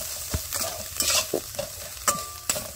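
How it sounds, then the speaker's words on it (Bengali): Turmeric, chilli, coriander and cumin powders frying in a pan for egg lababdar, a soft sizzle under several sharp spoon scrapes and taps against the pan, close and without talk. "মশলাটাকে ভেজে নেওয়া যায়।"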